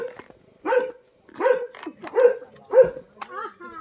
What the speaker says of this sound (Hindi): देखो ये देखो कुत्ता